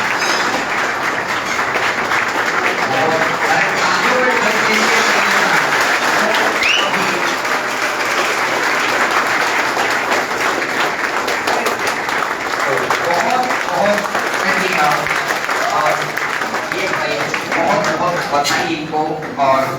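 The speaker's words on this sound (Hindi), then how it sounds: "तो एक बार खड़े होकर सभी बच्चे तालियां बजाएंगे" Students standing and clapping loudly together, a dense, sustained wall of applause from a large room of young people, continuous for the whole stretch with faint voices mixed in.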